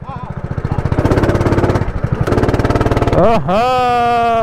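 A go-kart engine at a Mumbai karting track starts and runs with a rapid chugging putter that pulses steadily up close, then a voice cuts in over it near the end.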